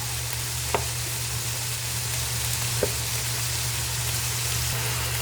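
Garlic and onion sauté with fish sauce in a pan for flat pansit noodles, giving a steady low frying sizzle throughout with two brief sharp clinks of stirring, no talking.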